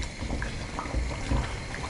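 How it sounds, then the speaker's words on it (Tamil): Brinjal and lima bean kulambu bubbles steadily in a pot, a continuous soft, low gurgling simmer with no voices. "குழம்பு நல்லா கொதிச்சிட்ருக்கு"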